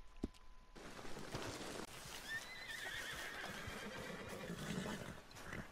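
Horses in Red Dead Redemption 2 whinny and neigh close by, with a rising call near the middle, while hooves clip-clop and shuffle steadily underneath throughout.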